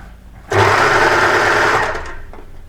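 An overlocker sewing machine runs at full speed stitching T-shirt fabric, a loud steady mechanical whir lasting about a second and a half close up, then slowing and easing off.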